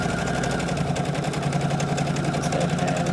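A sewing machine stitching quilt pieces runs in a fast, even mechanical whir with a rapid needle rhythm, close and steady for a few seconds, no talk.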